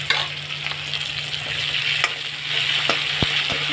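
Ginger and garlic fry in a hot pan with a steady, close sizzle and crackle, broken now and then by the scrape and click of stirring; no one speaks.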